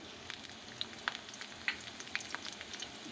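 Garlic dropped into hot frying oil left over from frying pakoras sizzles quietly and steadily, with small crackling pops scattered throughout and no talking.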